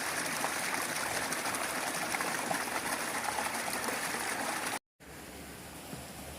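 Río Chico flows past Balneario Los Remansos in Nono in winter, a steady broadband rush of running water, moderately faint and continuous, with a brief cut near the end.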